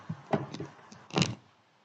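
A car door breaking off gives a few short, dull clunks followed by a louder metallic bang that quickly fades.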